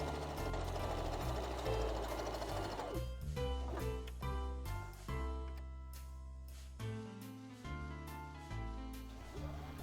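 Janome Magnolia 7318 sewing machine stitching, a steady mechanical whir with rhythmic needle clatter and pulsing tones that shift as it runs, close and fairly loud throughout with no talking.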